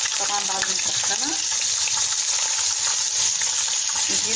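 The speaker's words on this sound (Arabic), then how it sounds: "هنجيب طاسه نحط فيها 3 معالق زيت، ننزل فيها البتنجان طبعا بعد ما نسخنها" Eggplant frying in hot oil in a pan, a steady close hiss and crackle of sizzling throughout, with a voice speaking over it.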